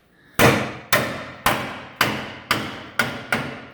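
A hammer taps a Chevy C10 truck frame at a C-notch, seven sharp metallic strikes in an even rhythm, each ringing briefly before the next, close and clear with no talk.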